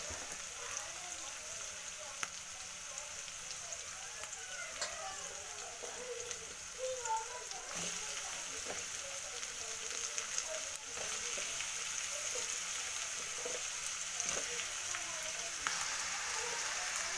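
Raw banana pieces tossed into a pan of softened onions for a palya, giving a steady, soft hiss and sizzle that carries on evenly throughout with light crackle.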